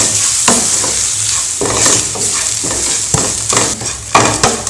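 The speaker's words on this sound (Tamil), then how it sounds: "தேங்காய் போட்டதுமே தேவையான அளவுக்கு உப்பு போட்டு இதை நல்லா கிளறி விட்டுடலாம்" Coconut and salt being stirred in a hot pan for variety rice, with a steady sizzle under repeated scraping strokes of a spoon, loud and close, no talking.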